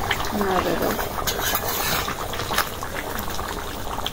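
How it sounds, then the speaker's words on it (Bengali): Beef kala bhuna stirred in a pot bubbles and churns with a thick, wet, continuous sound close by, while a voice carries on underneath. "দেখি মাংসটা একটু নাড়িয়ে দিই"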